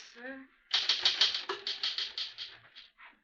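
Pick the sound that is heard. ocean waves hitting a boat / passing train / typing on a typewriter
typing on a typewriter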